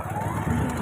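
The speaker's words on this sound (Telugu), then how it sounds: "ఇక్కడ నుంచి బండి వెళ్ళలేదు కానీ బట్ ఎలాగో ట్రై చేస్తున్నాడు మా నాన్నగారు" A motorbike or car engine labours steadily up close as a father tries to drive it off a village road into a farm field, a continuous low rumble filling the whole moment with no talk.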